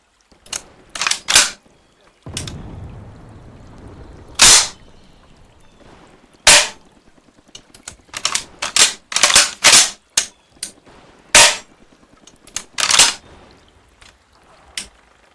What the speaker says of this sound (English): this gun is so loud